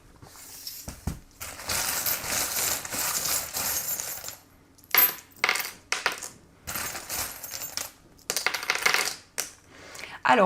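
Small metal divination charms are cast and jostled onto a surface, making repeated clinking, rattling bursts like dropped coins, close and fairly loud, separated by brief pauses.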